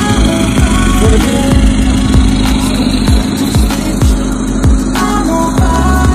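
Remapped VW Caddy van engine with a full exhaust and sorted DPF, idling close by with a steady low rumble and a regular pulsing beat, loud and alone.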